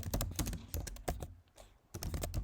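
Fingers type rapidly on a computer keyboard, producing dense clattering keystrokes close up with a brief pause midway before the rapid tapping resumes.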